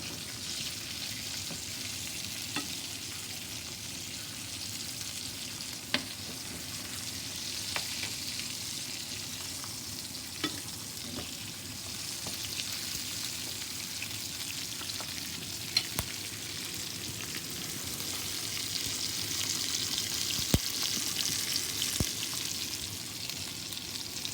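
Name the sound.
salmon frying in a pan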